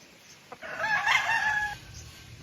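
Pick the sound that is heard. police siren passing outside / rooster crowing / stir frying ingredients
rooster crowing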